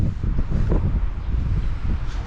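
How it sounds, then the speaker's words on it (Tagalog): Strong typhoon wind buffets a fourth-floor rooftop, a steady low rumbling roar with gusty surges that keeps going without a break and no voices over it. "Malakas pa rin yung ano, hangin."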